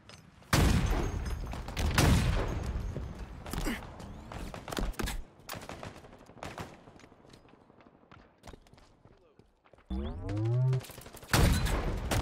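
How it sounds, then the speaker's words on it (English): Gunfire in Halo multiplayer, heavy bursts of shots near the start, then scattered reports around a quieter stretch, ending with another loud burst; game announcer-style voice lines and effects mix in. "Taking fire."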